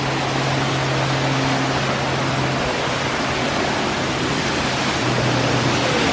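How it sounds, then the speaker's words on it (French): Waterfall at a river during a holiday outing, a steady broadband roar of falling water filling the whole clip without pause, close and constant, with a low hum underneath and no voices. "Voilà la cascade, elle est là."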